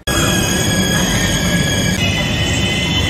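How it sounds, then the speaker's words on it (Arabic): A regular passenger train passes at Rabat station in Morocco, a loud, continuous rumble of rolling wheels with high metallic ringing and a slight shift in pitch partway through. "هذا القطار العادي. هذا مو البراق."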